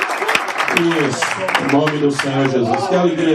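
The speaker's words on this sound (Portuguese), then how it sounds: "Vamos dar mais uma vez uma salva de palmas ao Senhor?" A congregation at a men's congress in a Portuguese-speaking church applauds in praise, the clapping running as a background patter beneath someone speaking loudly over it.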